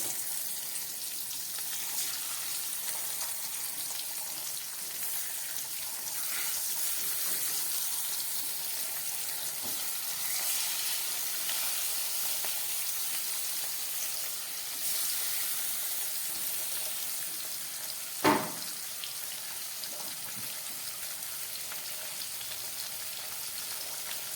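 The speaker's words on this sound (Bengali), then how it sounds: "এই তেলের মধ্যে আমি এবারে মাছগুলো ভেজে নিচ্ছি। এই মশলা মাখানো মাছ" Spice-marinated pabda fish frying in a pan of oil gives a steady, even crackling hiss throughout, with one brief louder pop or clink near the end.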